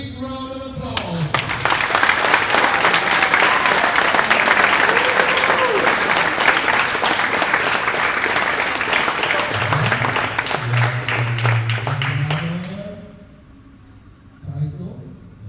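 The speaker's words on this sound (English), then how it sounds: "give them a big round of applause" Spectators at an underwater rugby championship clap loudly and continuously for about twelve seconds, a dense, close roar of applause that tapers off, with a voice speaking near the end.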